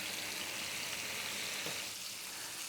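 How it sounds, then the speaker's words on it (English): Beef ribs sear in a hot pan, giving a steady, close hiss of frying that runs unbroken throughout with no voices. "I think we're gonna have a nice sear now."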